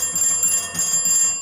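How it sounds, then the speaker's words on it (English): Hand-cranked telephone in a coal mine, its bells ringing in a steady, rapid metallic trill that carries through the whole short stretch with no talk. "If you wanted to get someone on the phone, you'd come right up to the phone and turn the crank,"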